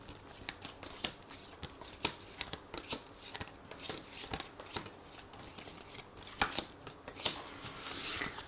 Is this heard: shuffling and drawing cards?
yes